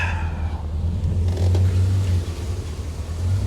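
A Corvette's engine idles steadily with a strong low rumble, close by and continuous, a brief rise in revs around the middle.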